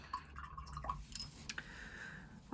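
Soft, quiet drips and trickles of water fall from a watercolour brush as it is rinsed, a few close patters and a faint splash with no talk.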